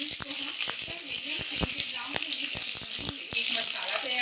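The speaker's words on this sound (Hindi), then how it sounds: "चटकने की आवाज़ आने लगी है" Chopped onions and halved green chillies frying in hot oil in a pan for a bottle-gourd sabzi, with a steady bright sizzle and frequent sharp crackles and pops throughout, loud and close.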